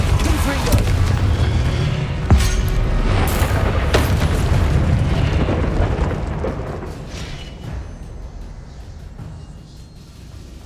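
Confringo and Depulso spells in the Hogwarts Legacy game go off in a rapid run of booming blasts and bursts, loud and close, overlapping each other before easing off toward the end.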